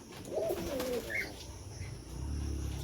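Soft, low cooing from pigeons close by, a rolling call near the start followed by quieter murmurs and background rumble.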